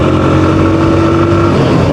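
A vehicle pulling out hard to overtake on a road near Bhabaniganj, its engine droning loud and steady with a sustained pitch throughout, close to the rider.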